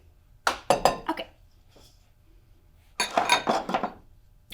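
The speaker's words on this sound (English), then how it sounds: "We'll give it a good mix." Spaghetti squash being mixed with cilantro pesto in a bowl: two bursts of utensil scraping and clinking against the bowl, each about a second long, close and clear, separated by a quiet pause.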